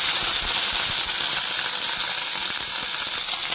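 Bottle gourd pieces sizzling in hot oil in a pan, a loud, steady hiss with crackling spits running unbroken from start to finish, close up and without talk.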